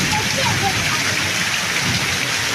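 Heavy monsoon rain pours steadily in Thadgam village, Kavant, Gujarat, a dense, loud hiss of drops drumming on surfaces with no letup throughout.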